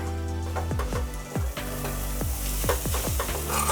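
Grated coconut is stirred with date palm jaggery in a hot pan, a close continuous sizzle broken by quick repeated scrapes of the spoon against the pan over a few seconds.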